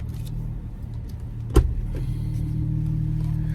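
A Jeep crawling along an off-road trail: a steady low engine drone with a single short knock or clunk partway through, no speech.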